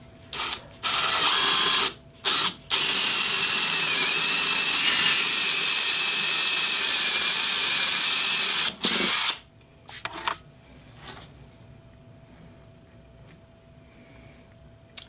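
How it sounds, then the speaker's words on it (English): Power drill boring into wood with a 3/8-inch bit for a hollow-form turning: a couple of short bursts, then a loud, sustained high whine lasting several seconds before it stops and the room falls quiet. "So I'll be using the 3/8, which requires a 3/8 drill bit. I'm just going to drill in a little bit for that."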